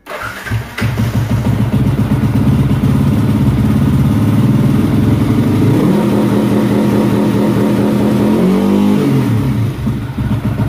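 Motorcycle engine running loud and close during a pit lane limiter test with a Sharp Wings Racing box, a steady held rev that bounces off the limiter in a rapid stutter, then climbs and drops near the end.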